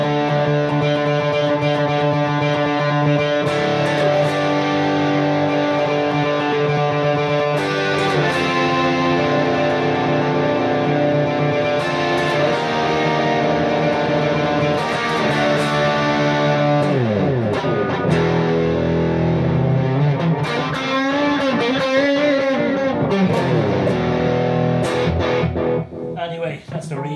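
An electric guitar plays chords and melodic lines through a T-Rex Magnus delay pedal, each note echoing and trailing off, continuous and loud with a distorted edge.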